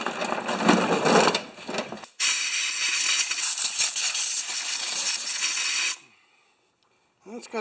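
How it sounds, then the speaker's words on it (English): Compressed air blasted through an oil-clogged part of a Kohler push mower in two hissing bursts, the second long and loud, with brief mechanical clicks after. "I'm just going to try and blow some more of this crap out of here"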